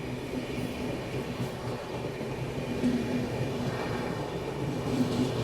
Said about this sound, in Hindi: फाइनली यहाँ पे पुष्पक एक्सप्रेस अपने को ओवरटेक कर रही है।